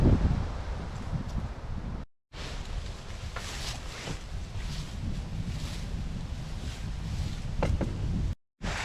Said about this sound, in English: It is way too windy.